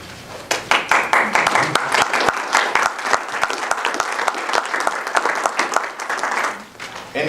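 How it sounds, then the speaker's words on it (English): Audience applause at a school board of education meeting, a sustained burst of many hands clapping that swells, holds steady for several seconds and then fades out near the end. "And with that applause"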